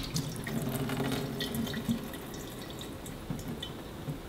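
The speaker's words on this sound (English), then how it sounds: "Go ahead and drain them out." Water pours and trickles from a sprouting jar of soaked seeds as it drains through a rubber-band-secured mesh top, a steady close splashing flow with occasional drips, no voices.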